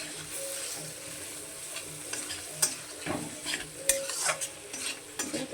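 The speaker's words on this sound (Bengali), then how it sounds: "অল্প আঁচ দিয়ে চুলায় একটু 2 মিনিটের মতন মশলাগুলো একটু ফ্রাই হতে দেবো" Spices frying in a pan over low heat while being stirred, soft sizzling beneath repeated spoon scrapes and taps against the metal, fairly quiet and close, no talking.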